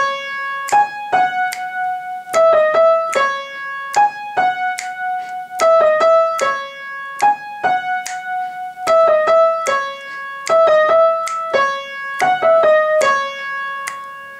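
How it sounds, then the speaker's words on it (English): Synth chorus part from a piano lesson backing track for a song, playing bright, harmonically rich sustained chords in a steady repeating rhythm with short stabs between held notes, loud and clear with no voices. "Once all the way through, your chorus synth should sound something like this."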